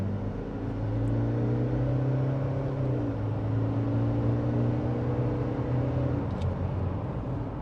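Toyota Prado running an ECU remap and transmission tune, accelerating hard with a steady droning engine note and a gear change partway through, heard from inside the cabin, loud and continuous with no talking.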